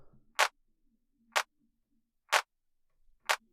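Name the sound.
electronic clap slightly off the grid in techno track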